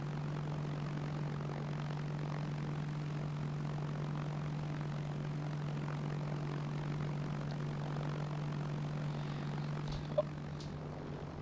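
An airplane flies in the Arma 3 Apex game on the island of Tanoa, giving a steady, droning engine hum that holds level and loud throughout, with a brief click near the end.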